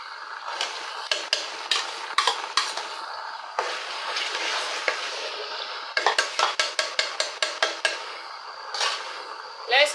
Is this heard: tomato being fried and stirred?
yes